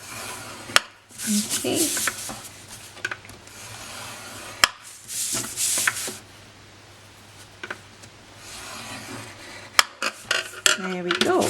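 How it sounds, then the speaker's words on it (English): Cardstock is scored on a scoring board with a series of scraping, rubbing strokes and sharp clicks and taps between them. A quiet voice speaks briefly. "we're going to score this at 1 inch all the way around"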